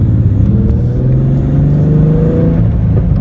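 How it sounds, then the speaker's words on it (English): A 2012 Ford Mustang with the 3.7L V6, Borla Attack exhaust and JLT cold air intake revs steadily and loudly up close, a continuous engine drone rising and falling slightly with no talk over it. "You hear like all kinds of backfire noises and things, sounds come out, you know, just music to your ears come out the exhaust."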